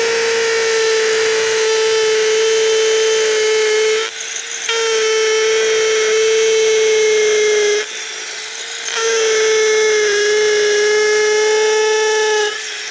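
A Flex compact cordless drill runs at a steady high pitch, loud and close, with two brief dips where it slows or pauses before spinning back up.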